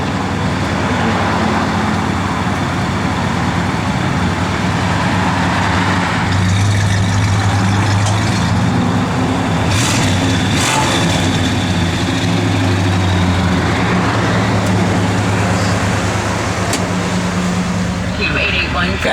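A 1964 Buick Riviera engine idles steadily with a low, rumbling hum, close and constant, a few brief clicks and knocks over it.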